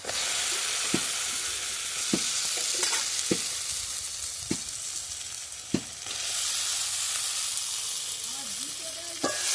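Fried potatoes stirred into hot masala in oil, a steady close sizzle and hiss broken by repeated sharp scrapes and clacks of a spoon against the pan at an uneven rhythm.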